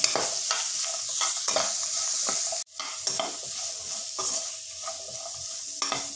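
Onion and green chilli cook gently in oil over a low flame for a restaurant-style malai kofta gravy. A continuous soft sizzle is broken by repeated close spatula scrapes and stirs, with a short pause midway.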